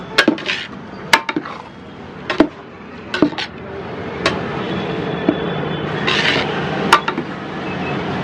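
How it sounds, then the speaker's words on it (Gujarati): Cooked rice tipped into a pot of pigeon pea curry, with scattered sharp clinks of a spoon against the pot and soft wet stirring, irregular and close, with no voices. "ધીરે ધીરે ચોખા એડ કરીશું."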